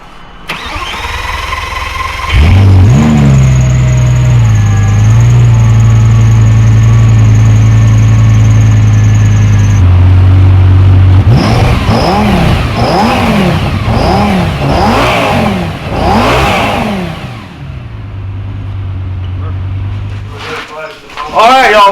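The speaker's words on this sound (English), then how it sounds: "We're gonna re-record the exhaust so y'all can hear what it sounds like." A rebuilt, previously wrecked Lamborghini Gallardo cranks and fires up, settling into a loud, close idle before a series of sharp exhaust revs rise and fall, then drops back to idle and cuts off.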